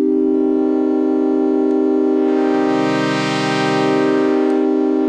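A sustained phase-distortion tone from the Arturia Pigments soft synth, with rich, buzzing harmonics whose brightness swells and fades slowly, played alone and steady.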